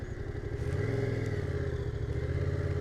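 Motorcycle engine running steadily at close range as the bike rides round a wide turn during a module one test, a continuous mid-pitched drone with slight revving and no voices.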